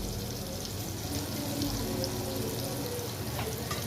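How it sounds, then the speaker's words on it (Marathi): Cumin seeds sizzle and crackle in hot butter and oil in a pan for pav bhaji, a dense and steady hiss that is close and fairly loud, with no speech. "तेल आणि बटर चांगलं गरम झालेलं आहे. त्याच्यामध्ये मी अर्धा टीस्पून मी जिरे घालून घेते."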